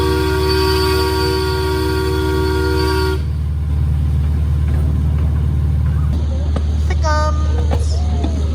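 A wildlife park ride train sounds a long, loud tonal horn, then rumbles steadily along under rain, with a few shorter whistle-like toots near the end.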